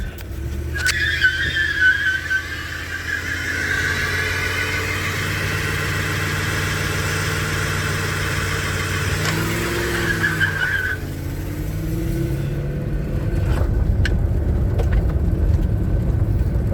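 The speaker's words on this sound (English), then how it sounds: "Okay, it'll do a burnout." A car running a computer-controlled engine on propane does a burnout, its loud engine droning steadily under a long tire squeal that rises, wavers and then drops into a rougher rumble near the end.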